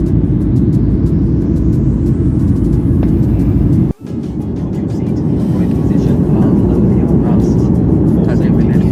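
Steady, loud airplane cabin roar during flight above the clouds, a continuous broadband rumble with a brief dip partway through, no talk.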